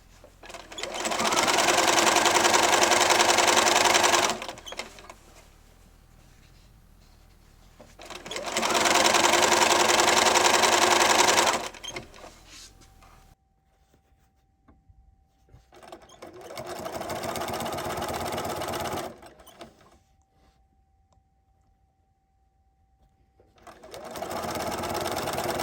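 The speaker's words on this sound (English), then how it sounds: "We're sewing a 1/4 inch seam, and then we are stopping a 1/4 of an inch from the corner." A sewing machine stitches a quarter-inch quilt binding seam on a baby quilt in three or four steady, close bursts, each several seconds long, separated by quiet pauses.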